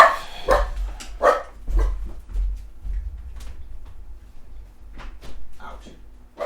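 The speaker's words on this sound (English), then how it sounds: "Stupid dog." A dog barks in short, sharp bursts close by, several spaced yelps over a few seconds amid indoor bumps and faint background noise.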